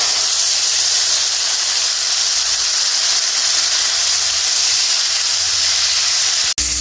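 Tomato paste goes into hot oil with dried red chillies and cumin for a Bengali papda fish curry in mustard gravy, giving a loud, steady close sizzle that cuts off sharply near the end.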